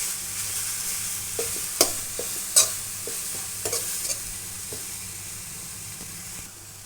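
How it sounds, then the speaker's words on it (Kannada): Carrot sizzling and frying in a kadai, with steady hiss and several sharp scraping stirs of a spatula against the pan, close and clear with no talking. "ಹಸಿ ವಾಸನೆ ಹೋಗೋವರೆಗೂ ಈ ಕ್ಯಾರೆಟ್ನ ಹುರ್ಕೋಬೇಕು"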